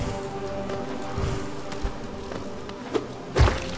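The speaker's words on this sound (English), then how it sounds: "Why are there so many bees?" Swarming bees in the video game Hollow Knight give a steady droning buzz under game sounds, with a few soft thumps and a louder burst near the end.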